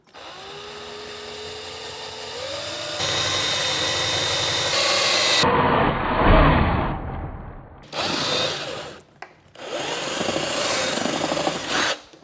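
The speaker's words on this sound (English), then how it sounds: "So I'm going to have to drill in that hole. But just take your 1/2 inch drill bit." Bursts of a power drill with a 1/2 inch bit whining and grinding through a gas can, several separate runs with short pauses between them, loud and close.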